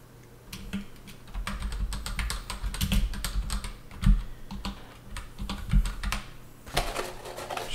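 Fast, irregular clicking of keys on a glowing backlit computer keyboard, heard close and steady with bursts of rapid strokes, alone with no voices.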